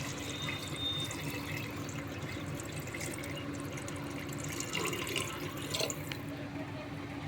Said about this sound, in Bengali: এটার মেপে আমি দু ঘটি জল দিয়ে দিয়েছি এর মধ্যে